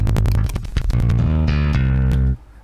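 Bass guitar from the free Ample Bass Lite plugin run through Guitar Rig effects, playing a busy, loud line of plucked notes that sustain, then stopping abruptly near the end with no voices.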